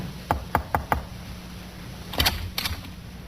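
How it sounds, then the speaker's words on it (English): Knocking on an apartment door on a second floor in a 1950s radio crime drama: four crisp knocks in a steady rhythm, then a short pause and a second, quicker burst of knocks, close and clear over a quiet background. "The sergeant knocked on the door of the second floor in front."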